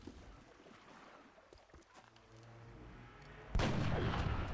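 A sniper rifle shot in the video game XCOM Long War lands as one loud, abrupt blast near the end, after a stretch of quieter game ambience.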